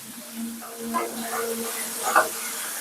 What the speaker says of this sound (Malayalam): തേങ്ങാക്കൊത്ത് എണ്ണ ഒഴിച്ച് വറക്കുവാണ്